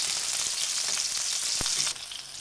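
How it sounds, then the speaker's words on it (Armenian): Breakfast food sizzles in a frying pan with a loud, continuous, crackling hiss. A single sharp clack is heard midway, and the level dips slightly near the end. No voices. "Մի փոքրիկ տապակելուց հետո շրջում ենք, որպեսզի երկու կողմերն էլ հավասար լինեն։"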